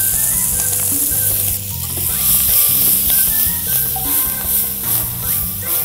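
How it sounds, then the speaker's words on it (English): Brussels sprouts sautéing with garlic in rendered fat, a loud close hissing sizzle with stirring movement, steady and uninterrupted. "And the fat is gonna be the cooking liquid for my Brussels sprouts."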